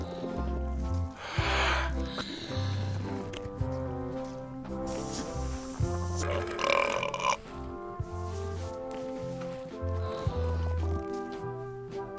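Exaggerated cartoon burps from Return to Monkey Island's burping contest ring out one after another over bouncy game music, long rumbling belches alternating with comic grunts.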